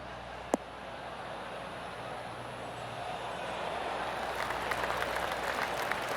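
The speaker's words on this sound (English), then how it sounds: "Oh, golf clap." Polite golf clapping from a virtual gallery at the Travelers Championship in PGA Tour 2K23 rises gradually out of a hiss of ambient noise after one sharp early click, building in the last couple of seconds.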